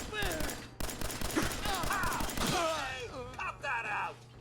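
Bursts of gunfire crackle in Fallout 4, sharp rapid shots scattered through the clip under frequent talking and game voices.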